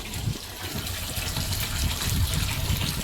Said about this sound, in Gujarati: તો મિત્રો પાણી ભરી રહેવાયું હોય આપણે કરી દેવું બંધ.